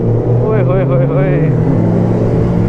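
A superbike engine hums steadily on a road at night while a voice sounds briefly over the continuous engine drone.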